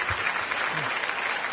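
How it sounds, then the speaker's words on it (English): Brief burst of audience applause at a live stage show, a dense wash of clapping and crowd noise lasting under two seconds with a faint voice underneath. "make a big round of applause for Joanna Lee"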